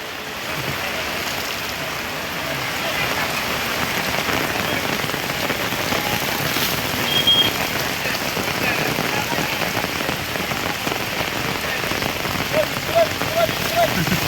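Heavy monsoon rain pours down over the Rajapur weekly market, a dense, constant hiss of drops on surfaces and running water, loud and unbroken throughout.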